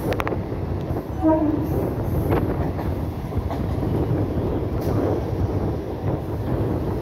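A local train from Howrah to Tarapith rumbles along steadily, its rolling clatter and wind noise filling the space, with a brief horn-like tone early on.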